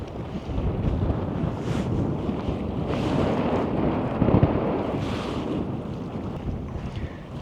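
Gusty wind buffets the microphone beside a mountain lake at a campground, a continuous loud roar that swells and eases in waves, with no voices.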